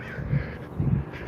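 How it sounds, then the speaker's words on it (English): Crows caw outdoors on a walk, two low harsh calls sounding moderately close over steady background noise. "we're being scolded by crows for some reason."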